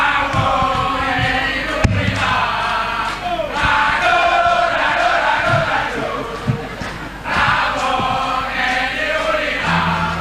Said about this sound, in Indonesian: Biar memuaskan sorak-sorai memberikan dukungan untuk pasangan nomor urut 3.